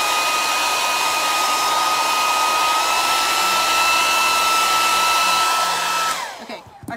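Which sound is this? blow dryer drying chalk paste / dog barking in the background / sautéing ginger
blow dryer drying chalk paste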